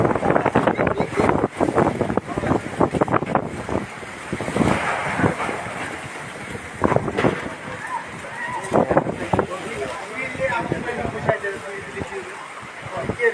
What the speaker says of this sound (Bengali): এটা বৃষ্টি আবহাওয়া হয়ে গেছে